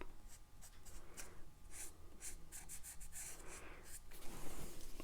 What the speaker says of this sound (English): Take a Sharpie and mark all the way around.